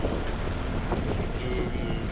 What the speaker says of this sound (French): Et le vent s'est un petit peu levé, on est plutôt dans les 14-15 nœuds